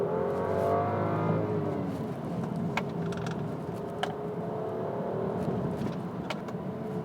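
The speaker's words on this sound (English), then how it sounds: "Bury your foot to the floor and it reminds you that it's a BMW at heart." 2012 BMW ActiveHybrid 5 accelerating hard at full throttle on a twisty hill circuit, with a steady engine drone rising in pitch and faint clicks and road noise beneath, heard from inside with no talking.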